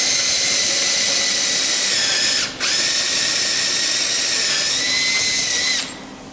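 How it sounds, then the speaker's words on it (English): A brad point bit drills holes in a wooden guitar headstock with a steady, high whine from a power drill, briefly dipping once mid-cut and then trailing off at the end, close and loud with no talking. "to know that I'm drilling straight."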